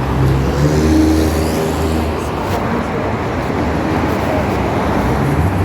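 Steady roadway roar from highway traffic in Kuwait, with several cars passing at close range, a continuous wash of tyre and engine noise and no pauses.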